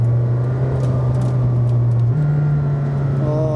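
A McLaren Senna's 4-litre twin-turbo V8 at the Estoril circuit holds a loud, steady drone, then steps up in pitch partway through as revs rise, with no talk.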